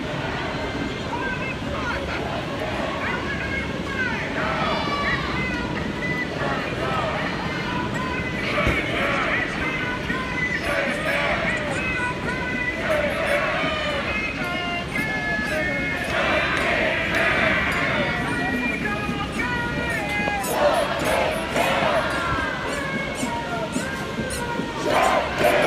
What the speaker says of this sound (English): The crowd is definitely in the hundreds, although it's not a huge crowd.